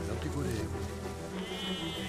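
A flock of sheep in the video game Valiant Hearts: The Great War bleats in wavering, drawn-out calls over a soft, rain-like background hiss, moderately close and fairly quiet.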